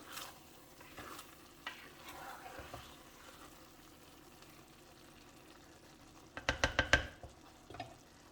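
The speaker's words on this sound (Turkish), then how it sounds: "Şimdi şöyle bir karıştıracağım." A spoon scrapes and stirs through cooked rice in a pot, quiet at first, then a quick burst of several louder scraping strokes near the end.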